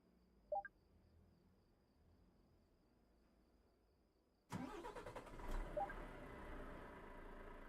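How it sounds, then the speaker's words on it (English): A truck engine in Euro Truck Simulator 2 turns over abruptly after a quiet stretch with faint insect chirps, then settles into a loud, steady rumbling idle. "we will start the engine"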